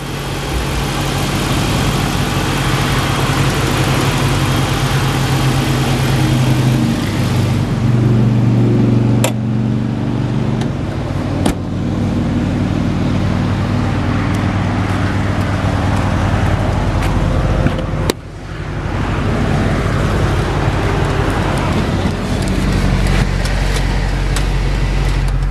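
A 2010 Dodge Challenger R/T with a 5.7-liter Hemi V8 idles steadily, a deep, continuous rumble held close and loud for the whole stretch, with a brief dip and a couple of sharp clicks partway through.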